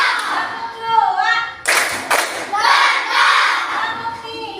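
Schoolchildren in a fourth-grade classroom perform a counted class clap, sharp bursts of hand claps in a quick pattern, with a teacher's voice and children's voices around them.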